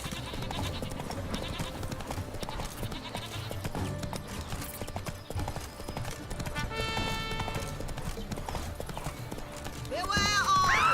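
Roach, a horse in The Witcher 3: Blood and Wine, trots with a steady rhythmic clip-clop of hooves under game music and ambient sound, with a voice speaking and a brief whinny-like cry near the end.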